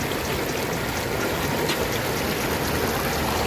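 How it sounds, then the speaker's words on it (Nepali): Water flowing in a stream at Katara, Qatar, a loud, steady, unbroken rush with no pauses or changes in level across the whole stretch. No voices are present. "तपाईँलाई मैले खोला देखाइदिएँ कस्तो लाग्यो?"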